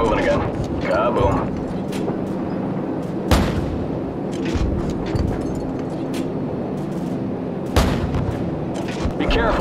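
Call of Duty 4: Modern Warfare, the Death from Above AC-130 gunship mission, with heavy cannon fire and deep booming explosions landing every few seconds under a constant engine drone. Radio voices talk over the combat.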